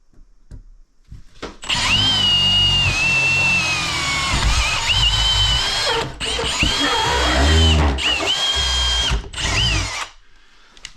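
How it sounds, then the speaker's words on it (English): A power drill, not in hammer mode, bores a pilot hole during a Samsung 24k BTU single-zone heat pump installation. It whines loud and close for about eight seconds, with two brief pauses between runs. "You want to drill a pilot hole?"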